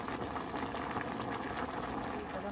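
Chicken and chana dal boiling in a pot, a steady close bubbling and simmering with no talk, constant in level throughout.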